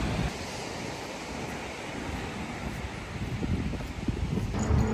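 Ocean waves at Kamakura beach in Japan roll in as a steady broadband wash of surf mixed with wind noise, growing slightly louder and rougher toward the end, with no voices.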